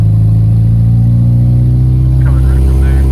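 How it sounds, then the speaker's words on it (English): A Nissan 240SX engine idling loudly up close with an exhaust leak, a steady deep droning rumble with ticking pulses throughout, and a brief voice near the end. "You can hear where the exhaust leak is."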